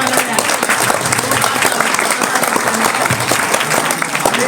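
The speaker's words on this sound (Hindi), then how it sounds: "जोरदार तालियां इस टीम के लिए" Enthusiastic crowd applause for a team at a school English-word antakshari competition, loud and continuous, with many hands clapping at once and a faint voice briefly audible beneath.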